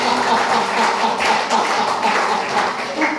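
A church congregation at GBI Serimpi claps for God in steady, fairly loud applause, many hands together with a loose, continuous rhythm throughout.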